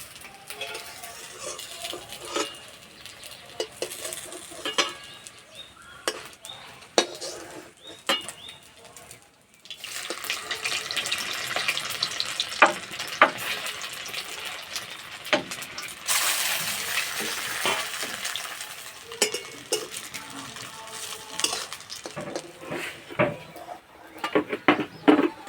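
Whole mustard seeds and dried chili fry lightly in oil, giving an uneven crackling sizzle with scattered sharp pops and clinks, quieter at first, then fuller and steadier.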